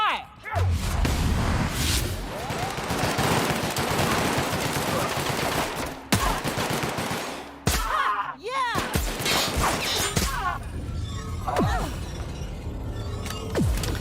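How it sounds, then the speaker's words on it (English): Rapid machine gun fire in a video game, dense sustained bursts with crashing impacts mixed in, broken by brief pauses, while voices talk over the shooting. "Opening fire!"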